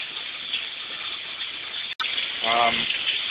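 Water surges into a saltwater aquarium protein skimmer as a steady, close rushing hiss, briefly cut off near the middle, with a short voiced sound rising over the flow near the end.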